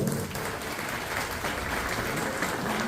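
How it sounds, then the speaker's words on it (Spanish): Steady, full audience applause for honorees at an anniversary ceremony of a Guaraní language and culture society in San Juan Nepomuceno, a continuous wash of clapping from a sizable crowd. "Fuertes los aplausos para los homenajeados."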